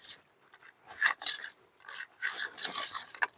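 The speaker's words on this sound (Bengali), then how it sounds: "মাছের সঙ্গে মশলাটাকে বেশ ভালো করে একটু মেখে নিতে হবে।" Fish is mashed by hand with spices, mustard oil and lentil dumplings (bori), giving soft wet squelching and rubbing strokes in irregular bursts, close and fairly quiet.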